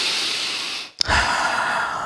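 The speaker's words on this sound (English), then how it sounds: "Everybody take another deep breath." A room full of worship-school attendees inhales and exhales together in a deep group breath, a broad airy rush that fades to near silence, then a short sharp sound and a fuller sustained exhale.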